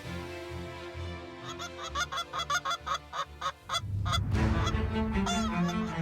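Canada geese honking near a marsh during a mixed duck hunt, a rapid string of loud nasal calls from an approaching flock followed by a busier, overlapping burst of honks.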